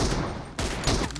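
Rapid gunfire from a multiplayer shooter video game during a team deathmatch, with dense, loud bursts and sharp overlapping shots, one strong volley near the middle and another toward the end.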